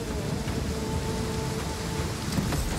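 Steady rainstorm hiss in the strategy game Total War: Pharaoh, a dense, even wash of falling rain with faint rumbling underneath, heard alone without voices.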